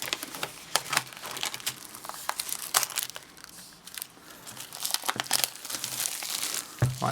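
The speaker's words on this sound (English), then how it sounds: "I'm going to peel off the plastic." Plastic wrap crinkles and crackles as it is peeled off an Apple Watch Sport Edition box. The rustling is close and irregular, with sharper crackles scattered throughout.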